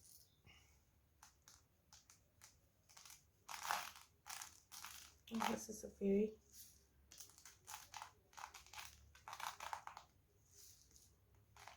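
Broken glass pieces crunch and clatter as they are added to a glitter painting, coming in short bursts of crinkly crushing and clinking, close and fairly loud, with a person speaking between and over them.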